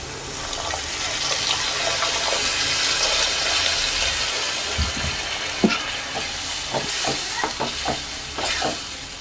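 Water hisses and bubbles into a spiced onion mixture frying in a pan for vada kari, with a continuous sizzle and a few sharp stirring knocks near the end and no talking.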